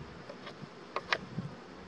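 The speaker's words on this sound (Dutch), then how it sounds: "Een paar bijen zitten ernaast." Honeybees buzz around an open beehive as frames are handled, a faint steady hum with a few brief louder passes of individual bees flying close by.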